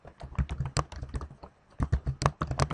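Close, crisp typing on a computer keyboard while entering code, two quick bursts of rapid clicking keystrokes separated by a short pause.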